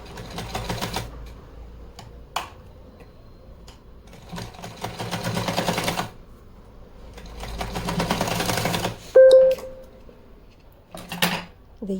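A sewing machine stitches along the folded edges of fabric for a small designer doll dress, running in three steady bursts with pauses between them, close up, with occasional light handling clicks.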